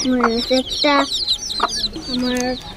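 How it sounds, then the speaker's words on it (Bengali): Several small young chickens cluck and squawk close by in short, repeated bursts, with a higher peeping chirp running through. "ছোট ছোট মুরগি"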